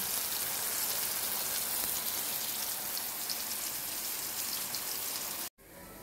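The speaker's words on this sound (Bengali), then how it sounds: "এখন এদিকে বৃষ্টি পড়ছে।" Steady rain falls outdoors, a dense, even broadband hiss that keeps the same level from start to finish and then cuts off sharply near the end, with no voices over it.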